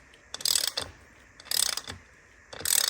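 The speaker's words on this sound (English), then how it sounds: "I'm going to swap over to a quarter drive ratchet now" Quarter-drive ratchet tightening screws on an Akrapovic slip-on exhaust for a BMW R NineT Racer: three short bursts of rapid, close clicking about a second apart, separated by quiet pauses.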